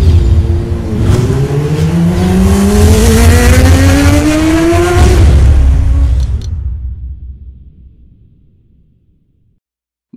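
A Suzuki Gixxer 250 motorcycle rides with its engine loud and close, climbing in pitch through two accelerating pulls before the sound cuts off and a low rumble fades away over the last few seconds.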